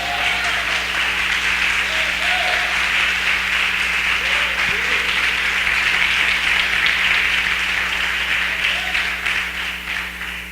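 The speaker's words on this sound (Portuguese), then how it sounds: "Quem entendeu, levanta a mão e aplauda ao Senhor" A congregation at a live church service claps together, a broad steady wash of applause mixed with scattered voices and a low sustained musical hum underneath.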